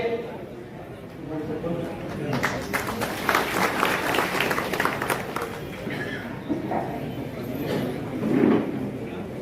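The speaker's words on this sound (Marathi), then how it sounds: "सर्वांनी टाळ्या वाजवून स्वागत करायचं आहे." A seated audience at a government farmers' relief camp in Yavat claps to welcome an official, a dense burst of applause swelling for a few seconds amid crowd murmur and voices.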